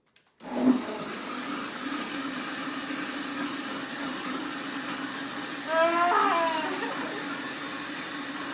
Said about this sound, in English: clicking this switch to turn the blender on